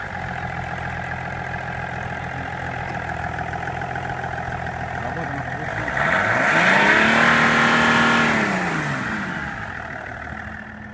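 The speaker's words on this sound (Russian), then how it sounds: "Заводим мотор." A 2002 BMW X5 with a 3.0 diesel engine idles steadily and close, then revs up in one long rise about halfway through, holds high, and falls back toward idle.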